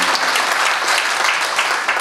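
Guests at a joint wedding ceremony applaud an introduced official, with a brief burst of loud, dense clapping that holds steady.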